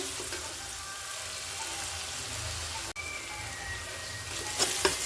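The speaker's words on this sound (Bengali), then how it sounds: "দিয়ে এটাকে আমি নাড়াচাড়া করতে থাকবো" Onions frying with salt in a pan give a constant close sizzle like light rain, with faint stirring scrapes and a clink near the end.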